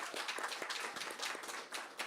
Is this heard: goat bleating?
no